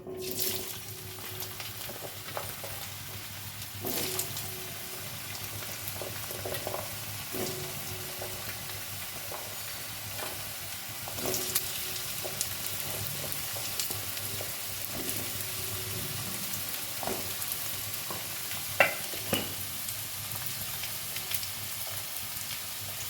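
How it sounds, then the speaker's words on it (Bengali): Potatoes frying in hot mustard oil in a wok, a continuous soft sizzle with occasional louder crackles and stirring clatters, fairly quiet and without speech. "কড়াইতে সর্ষের তেল গরম হয়ে গেছে, প্রথমে আলুগুলো ভেজে নেব"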